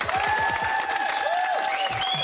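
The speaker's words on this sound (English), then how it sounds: "Give yourselves a round of applause." Steady applause from a television studio audience, dense clapping filling the whole stretch with faint tonal music or sounds running underneath.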